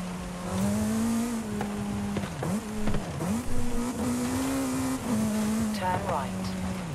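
A Formula 1 car in Forza Horizon 5 revs hard, its engine note climbing and dropping through gear changes with brief tyre squeals near the end. A voice may be present under the loud, steady engine.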